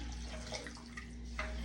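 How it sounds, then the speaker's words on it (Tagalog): Water running and splashing steadily into a pot of sinigang na pampano, a sour Filipino fish soup with sautéed ingredients, heard close and continuous with a faint tap-like hiss and no talk. "lagyan na natin siya ng tubig mga mamshis"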